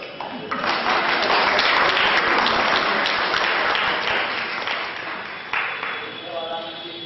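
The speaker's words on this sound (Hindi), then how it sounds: "मैं समझता हूं कि इस प्रस्ताव पर तालियां कम बची।" Dense audience applause fills a Hindi-language gathering in Patna, sustained and close, then thinning near the end as a voice begins speaking over the last claps.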